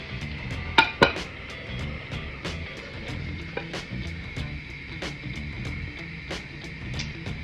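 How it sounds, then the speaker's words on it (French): A potato and egg tortilla is turned out of a pan onto a plate, with sharp clinks and scrapes of metal and crockery over a faint sizzle, a couple of louder knocks early on. "maintenant je vais la retourner pour qu'elle cuise de l'autre côté en mettant dans une assiette"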